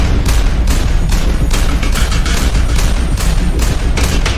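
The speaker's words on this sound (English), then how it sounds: "And of course, there should be an explosion." An animated explosion effect: a dense, loud barrage of booms and crackling blasts that rolls on without a break, much like heavy gunfire mixed with detonations.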